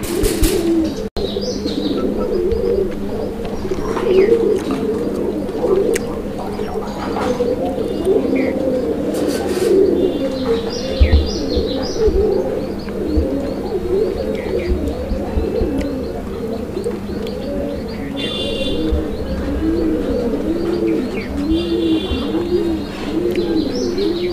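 Raj-golla and Madrasi pigeons coo over and over in low, rolling calls, with a few chirps and a brief flutter of wings mixed in.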